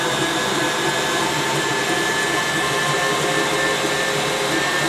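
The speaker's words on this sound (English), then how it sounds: "since we just got done milling all of our flour" An electric grain mill grinds einkorn grain into flour on its finest setting, giving a loud, steady, broadband whirring roar that runs unbroken and without talk.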